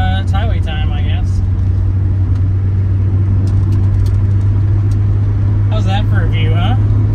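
A Volvo 940 Turbo cruising on the highway, a steady low engine and road drone filling the whole stretch, with voices talking over it at the start and end.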